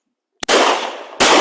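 A shotgun fires at a sporting compact clay shooting range, one sharp, loud, close blast with a long noisy tail, then a second shot right after it.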